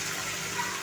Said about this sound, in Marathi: आता आपण ह्याच्यामध्ये ऍड करायचं आहे 1 कप पाणी.